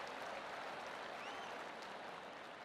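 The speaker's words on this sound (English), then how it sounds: "The crowd like it." A golf gallery applauds a made birdie putt in PGA TOUR 2K25 at Neopolo Bay, a steady wash of distant clapping and crowd noise sustained throughout without commentary.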